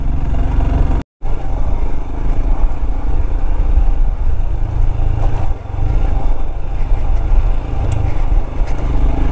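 Motorcycle engine on a rough off-road trail toward Manang, a loud continuous rumbling roar close to the microphone with a brief cutout early on and a slight dip midway, heavy wind and vehicle noise throughout.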